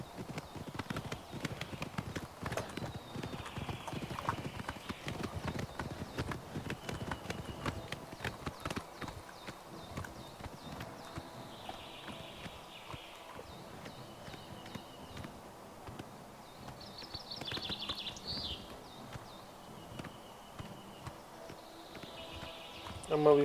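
Horse hooves in the video game Oblivion Remastered beat out a steady, quiet clip-clop rhythm as the horse travels along, continuing throughout with faint ambient game sounds.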